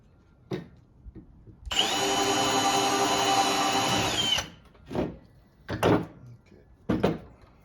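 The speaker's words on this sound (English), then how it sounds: "I'm going to go ahead and drill my mounting" Power drill boring mounting holes for a hatch on a Harbor Freight square drop camper, one steady whining run of about three seconds, close by, with scattered knocks and clunks before and after.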